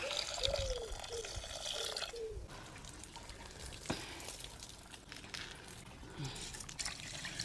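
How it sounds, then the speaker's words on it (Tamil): Water is poured over greens in a home kitchen to wash and soak them, giving soft trickling and splashing with a brief louder splash midway, while a voice is faintly heard near the start. "இதில் கொஞ்சம் தண்ணி இப்போ கழுவி ஊற வச்சுருவோம் கொஞ்சம் நேரம்"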